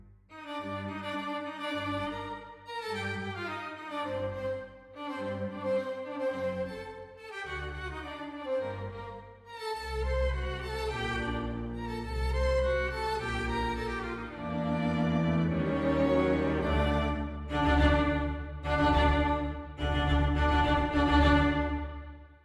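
A few solo string instruments play a slow, sustained passage from Mozart's Symphony No. 40, starting thin and swelling richer and louder toward the end, with no voices.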